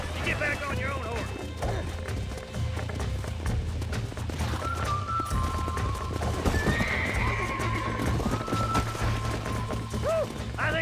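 Horses in the Red Dead Redemption video game whinny and neigh several times over steady clip-clopping hooves, with a low ambient drone beneath and occasional crashing effects.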